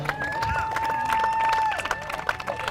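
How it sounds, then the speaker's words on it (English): Audience at a Nantucket Whalers boys lacrosse team celebration clapping, a brief round of scattered applause with voices and cheering mixed in. "that's worth another clap for sure"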